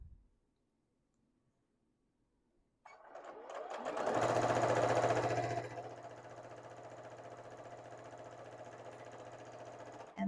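Sewing machine chain piecing quilt blocks for a maple leaf table topper, starting after a quiet pause with a loud close burst of stitching that settles into a steady, softer hum.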